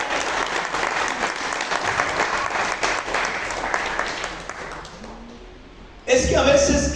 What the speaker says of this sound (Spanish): Dale fuerte a la ofrenda de palmas al Señor.